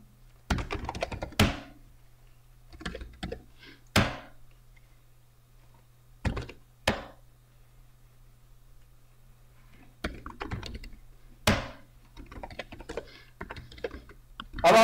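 Computer keyboard typing names into a text file, short bursts of quick key clicks separated by pauses over about fifteen seconds, close and clear in a quiet room.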